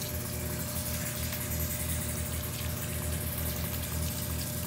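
Tap water runs steadily over hands being rinsed at a sink during handwashing, a constant close rushing hiss with no pauses and no talking.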